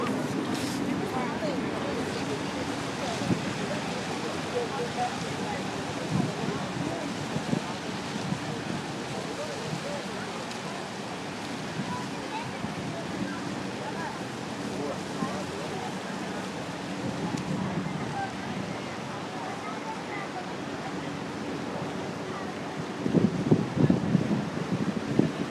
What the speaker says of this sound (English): Probably because of the wind.